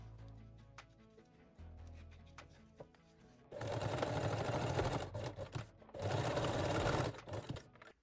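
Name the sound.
sewing machine stitching nursing bralette straps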